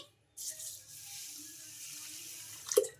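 Rice being rinsed in a bowl of water, with a pour of water starting suddenly and running as a soft, steady splashing trickle, ending in a brief louder slosh.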